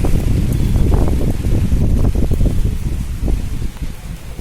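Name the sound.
strong wind during Cyclone Remal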